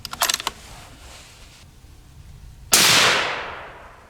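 Two suppressed shots from a Rugged Razor-suppressed rifle fired at a target: a quick pair of sharp cracks opens the clip, then after a pause a louder, broader blast rings out and decays over about a second, with no talking.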